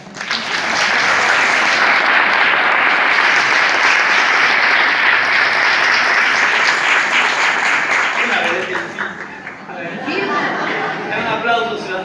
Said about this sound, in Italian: è un applauso sulla fiducia